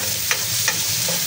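Onions for pork sisig sizzle steadily in a pan, and two quick scrapes of a stirring utensil come through over the frying noise.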